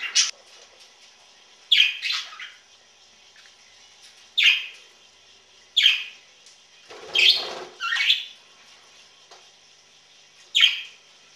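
Pet budgies in their cage give short, scratchy squawks and chirps spaced a few seconds apart, with some calls coming in quick pairs. The calls are fairly close against a quiet background with no talking.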